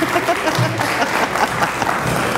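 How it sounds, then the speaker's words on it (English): Applause at a local talent show as a judge is introduced, a crowd clapping steadily with some faint voices mixed in beneath the clapping. "A round of applause, Mary Morris."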